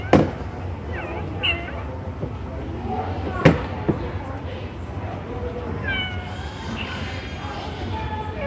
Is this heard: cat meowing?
yes